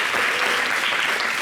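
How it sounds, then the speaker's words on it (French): An audience claps for the women in a short, dense burst of applause, loud and close, with no voices over it. "Applaudissez pour les femmes."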